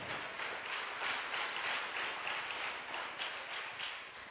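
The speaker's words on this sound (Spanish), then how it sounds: "Dale fuerte ese aplauso al Señor esta mañana." A church congregation applauding during a morning service, a steady wash of many hands clapping at even loudness throughout, with no voices over it.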